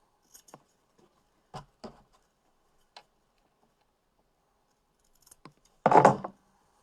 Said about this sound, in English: I'm just going to take my scissors and clip them